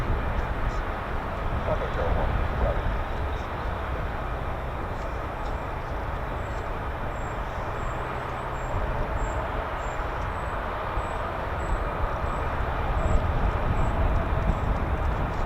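F-35 fighter jets at RAF Lakenheath start their engines, heard as a broad, steady roar from a distance that holds for the whole stretch, with a person talking over it.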